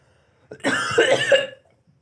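A man coughs once close to the microphone, a raspy throat-clearing cough lasting about a second in an otherwise quiet room.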